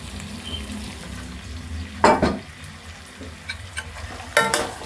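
Chopped vegetables and tomato fry in a pan for vegetable pulao, giving a steady soft sizzle close by, broken by a couple of louder scraping stirs of the spoon against the pan.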